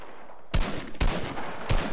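Gunfire from a light machine gun in a video game: three loud broadband bursts, each sharp onset with lingering rumble, close and without speech.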